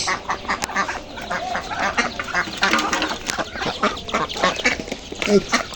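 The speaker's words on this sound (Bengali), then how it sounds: "এই হলো হাঁস।" Ducks quack loudly and continuously, several birds calling over one another at close range with a steady, busy chatter.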